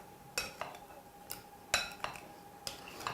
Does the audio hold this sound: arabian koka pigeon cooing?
no